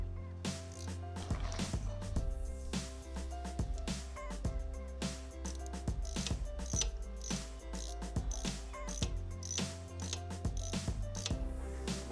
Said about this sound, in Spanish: Vamos a ir aflojando los tornillos